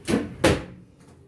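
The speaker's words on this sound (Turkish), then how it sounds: "Ay çekmeceleri açık unutmuşum." Kitchen drawers pushed shut, two quick, close thuds about half a second apart, followed by a fainter knock as the sound fades.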